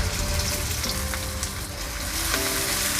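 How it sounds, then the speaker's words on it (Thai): Garlic and sliced shallots fry in plenty of hot oil, giving a loud, steady, dense sizzle that runs unbroken throughout with no voices over it. "น้ำมันเราเริ่มร้อนนะคะ ให้เราใส่กระเทียมลงไปค่ะ ตามด้วยหอมซอยนะคะ"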